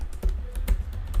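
Keys being pressed on a computer keyboard, including the Enter key, a few soft close clicks spaced irregularly over a low background hum.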